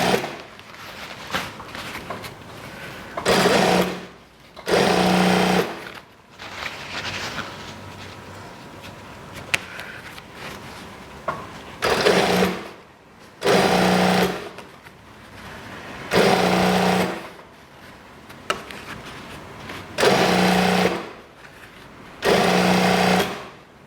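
Sewing machine stitching back and forth across trouser fabric at a crotch seam, running in repeated loud bursts of about a second each, separated by short pauses with faint handling noise.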